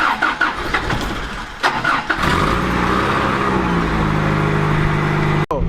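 A car engine cold-starts with a cranking burst, then settles into a steady, loud idle up close, ending with a sharp cutoff.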